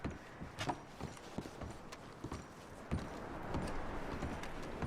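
Horses' hooves clip-clopping in Red Dead Redemption 2, soft irregular hoof knocks over a low ambient bed of wind and movement, faint and somewhat distant with no talking.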